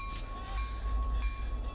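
A Conway Scenic Railroad train rumbles steadily with a low, continuous roar and faint high tones, close and unbroken over a short stretch.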